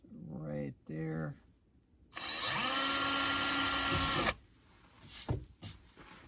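A power drill bores small pilot holes in a Jeep's fiberglass hardtop, a loud steady whine lasting about two seconds, close up, preceded by brief voice-like sounds and followed by a few knocks.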